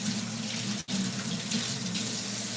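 Tap water runs steadily into a sink to rinse out a cooking pan while curry chicken is being made, a continuous close hiss with one brief break partway through.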